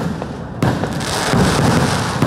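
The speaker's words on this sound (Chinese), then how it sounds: "一号凌晨12点释放10分钟烟火，替妈祖守岁。" Fireworks at the Mazu festival on Meizhou Island, a dense rolling crackle of bursts that jumps louder after a brief lull, continuous and fairly near.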